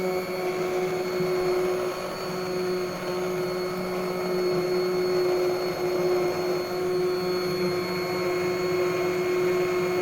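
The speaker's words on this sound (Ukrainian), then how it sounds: "І тепер блендером його перебиваю." A blender purees cooked apricot jam, running steadily with a constant whirring motor drone at close range throughout, with no talking.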